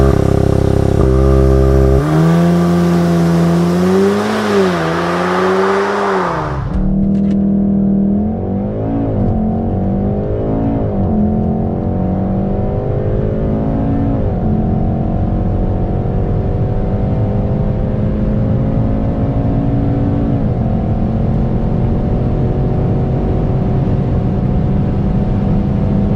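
Hard acceleration from a 2019 Volkswagen Golf 7.5 R Performance with 300 horsepower: a loud, rising engine roar climbs through the gears with brief dips at each shift, then settles into a steady high-speed drone with road and wind rush, no talking.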